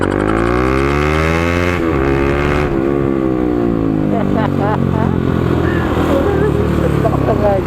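A Suzuki Raider motorcycle fitted with an aftermarket exhaust revs loudly up close, its pitch swooping up and down in repeated throttle blips, while voices talk over it.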